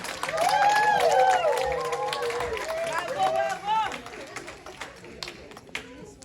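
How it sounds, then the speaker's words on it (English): An audience applauds the cast of the production Depi Tou Piti, with scattered clapping and crowd cheers mixed under an excited host's voice and chatter, the clapping thinning toward the end. "give a round of applause to all the stars"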